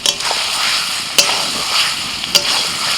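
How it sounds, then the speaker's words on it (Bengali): Chicken tossed in a pan with spices for a spicy Thecha chicken curry, giving a steady close sizzle of frying with scraping stir strokes and a couple of sharp clatters, no talking. "এইভাবে চিকেনটাকে নাড়াচাড়া করতে হবে করতে করতে ভালো করে মশলার সাথে একদম ভাজা ভাজা করে নিতে হবে"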